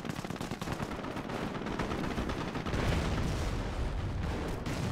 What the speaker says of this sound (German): ich schieße jetzt in der Artillerie rein